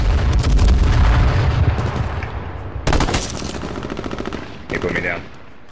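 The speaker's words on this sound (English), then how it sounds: "Oh, that's an airstrike." Loud airstrike blasts and rapid gunfire in the online survival shooter H1Z1 on PlayStation 4, a heavy rumbling barrage with repeated sharp shots and a second burst of explosions midway.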